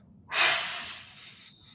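A quick, forceful exhale pushed out through the mouth, a single breathy rush that swells sharply and then tapers over about a second, close and fairly quiet.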